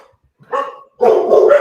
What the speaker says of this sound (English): it seems like if there's not at least one dog going nuts on the podcast, you're not doing it right